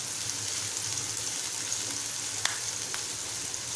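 Curry leaves sautéing in hot oil with onion in a pan, a steady close sizzle and crackle throughout, with one or two faint clicks of a spoon.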